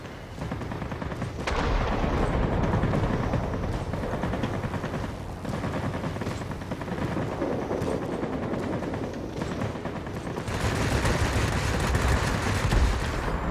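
Rapid machine-gun bursts from an aircraft's tail gunner in the World of Warplanes air-combat game during a Spitfire V dogfight, loud and rattling in several long bursts with short pauses between them.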